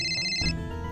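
A mobile phone ringtone plays a short, bright melodic phrase with clear sustained tones, loud and close, lasting under a second with no talking over it.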